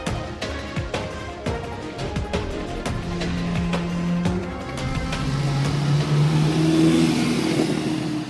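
An Alpine Renault sports car engine revs up with rising and falling pitch, a loud, close engine note building over several seconds with clicking and rattling sounds, no voices.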